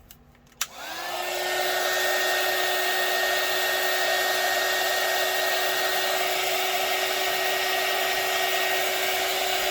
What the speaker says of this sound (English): My hot air gun.